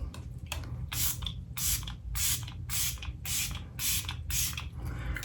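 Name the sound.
makeup setting spray being sprayed from a bottle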